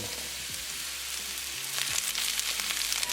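Mushrooms frying in a tablespoon of olive oil in a skillet over a gas flame, a steady close hiss and sizzle that grows slightly louder partway through.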